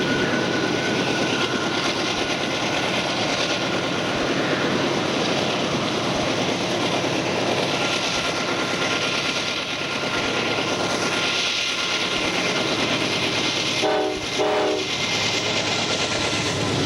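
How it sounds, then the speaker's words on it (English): Freight train 26T rumbles steadily past on track 3 at the Route 53 overpass in Gallitzin, a continuous loud roar with a brief horn blast near the end. "Coming along on track 3 at the Route 53 overpass in Gallitzin"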